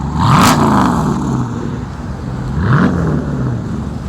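A Jeep SRT SUV engine revs twice, a sharp rising roar near the start and a second climbing rev around the third second, loud and close with steady idle rumble between.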